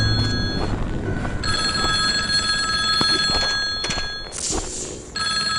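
An old-style telephone rings in the video game Bear Haven Nights, with bright trilling bursts repeating over several seconds, clear and close, alongside faint footsteps and game noise.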